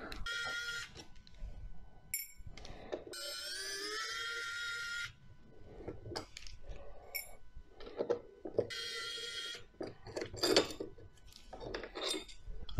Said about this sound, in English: I'm going to take these bottom four bolts out while it's upside down.